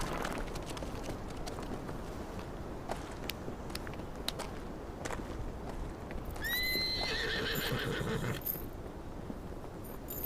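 A horse whinnies loudly partway through, its neigh rising clear above a steady run of hoofbeats clip-clopping close by along with light rustling.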